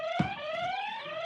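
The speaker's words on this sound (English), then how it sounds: "Everybody test your buzzers." A game show buzzer is tested during an Active Aging Week opening ceremony, giving a single sustained electronic tone, clear and fairly quiet, lasting just over a second.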